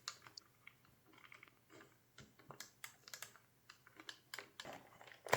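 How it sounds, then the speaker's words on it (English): Small switches in an Amiga 500 joystick controller click as the stick is pushed in different directions. The forward direction has a faulty contact. The clicks are quiet, sharp and irregularly spaced, heard close up with no talking. "As you can hear, 3 directions work perfectly fine, but to the front, there's no click."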